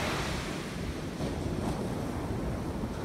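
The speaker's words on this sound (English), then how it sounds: "I'm very nervous about having my camera this close to the ocean because a good wave is going to come here soon" Ocean waves break steadily on a surf-fishing beach as the tide comes in, a loud continuous roar of surf with some wind buffeting the microphone, no voices.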